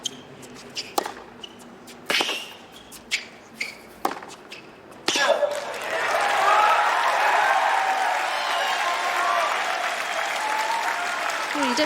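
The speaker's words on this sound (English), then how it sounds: "Listen to the crowd." Spectators at the 2025 US Open tennis match between Gael Monfils and Roman Safiullin cheer a rally. Ball strikes and footsteps come first, then the crowd breaks into loud, sustained applause and cheering that fills the rest of the clip.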